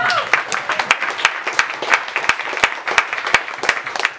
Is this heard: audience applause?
yes